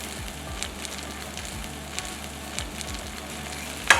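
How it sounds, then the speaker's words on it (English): Spices and mashed potatoes sauté in a pan as a soft, low sizzle with faint scraping stirs, fairly quiet and steady, with a brief clatter at the very end. "Let's mix and roast the potatoes for a minute"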